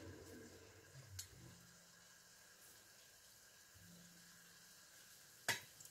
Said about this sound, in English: So now it's time to fry them.